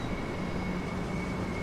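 A 4-car train from Seaford passes on its way toward Brighton, a steady, fairly loud rolling rumble of wheels and carriages that holds evenly throughout, with no voices.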